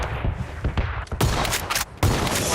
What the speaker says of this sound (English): I need to shoot a tire out